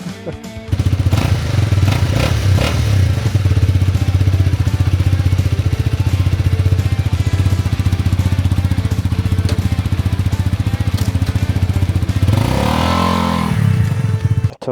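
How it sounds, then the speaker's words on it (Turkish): A Honda CL250 single-cylinder motorcycle with dual exhaust thumps steadily at a loud, close idle with a deep, full exhaust note, a brief rev swelling near the end. "Çift çıkış egzoz sayesinde çok güzel bir e, tok böyle bir ses yakalıyorsun tek silindirli için."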